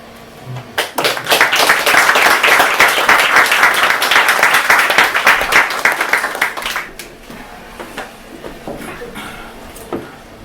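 Audience at an open-mic poetry night applauding after a poem, with loud, dense clapping for about six seconds that then thins to a few scattered claps and fades.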